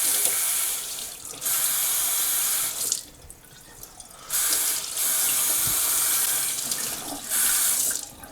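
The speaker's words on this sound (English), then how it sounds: "fill our tankard up here with some water" Water rushes from a tap into a tankard for home beer brewing in several bursts, stopping and starting again, loud and close with brief quiet gaps.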